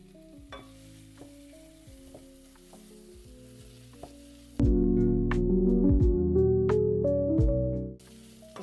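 Mushrooms hit a hot pan for ramen and burst into a loud, close sizzle that holds for a few seconds, with a utensil clinking and stirring against the pan before and during the frying.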